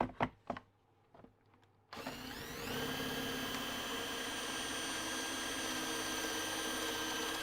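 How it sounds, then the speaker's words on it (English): A through-hole countersink bit spins up and bores into wood after a few sharp knocks, a steady loud whirring grind holding for several seconds with no voices. "Now I'm going to put a countersink. I'm just using a through-hole countersink"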